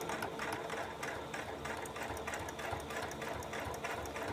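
A sewing machine stitches a decoration piece onto a fabric mask, its needle running in a fast, even mechanical rhythm with regular pulses, close and steady for a few seconds with no voices.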